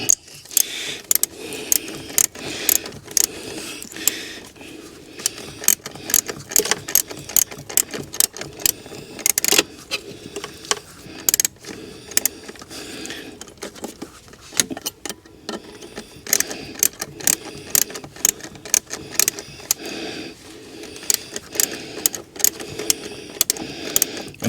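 A hand ratchet wrench turns a bolt on a Rover 75 car, producing repeated bursts of rapid, crisp clicking with short pauses between strokes, close and clear, with no one speaking.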